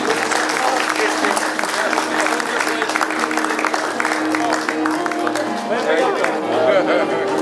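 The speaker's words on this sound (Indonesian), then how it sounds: "Iya, tepuk tangan." Sustained clapping from a crowd at a Big Bird 35th anniversary event, dense and even throughout with voices mixed into the applause.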